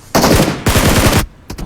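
Video game gunfire from behind the player: two loud, close bursts of rapid automatic fire, then a brief pair of quieter shots, with no talk.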